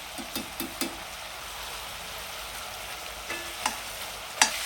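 Beef and tomato paste sizzle in a pot for a soup, a steady quiet frying hiss broken by a few light scraping clicks of stirring.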